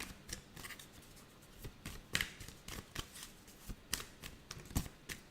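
Tarot cards are shuffled and drawn, giving soft, quick riffling flicks and papery snaps in an irregular rhythm, close by and quiet, with no talk.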